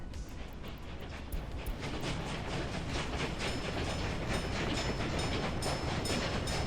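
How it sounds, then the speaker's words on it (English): A train passes in the game Early Start Siberia, a continuous rolling rumble with rhythmic clickety-clack beats from the wheels, steady and fairly loud throughout. "This train passes."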